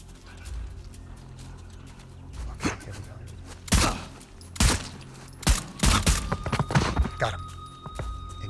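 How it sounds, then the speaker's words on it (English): Silenced pistol shots in the video game Uncharted: The Lost Legacy, a series of sharp, muffled pops in quick bursts, some clustered closely together, over a low game ambience with occasional speech. "Switch to the silence pistol."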